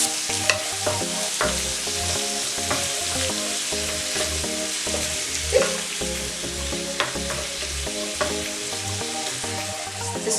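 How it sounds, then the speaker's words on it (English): Pesto pasta with bacon frying and stirred in a pan: a steady sizzle with regular spoon scrapes and knocks against the pan, close and fairly loud over a low background hum, with no talking. "with this, we want to keep stirring it, because if you let it"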